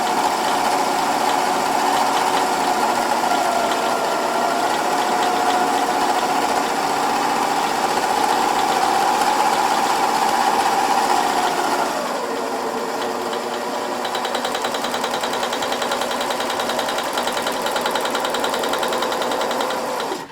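Serger sewing a flatlock seam with metallic thread, a fast continuous mechanical whir with a steady pitch that drops and slows after a shift toward the end, close and alone.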